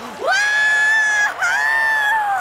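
A shrill victory screech after a win in the NASCAR 2011 racing video game, two long sustained high cries separated by a brief break, loud and close.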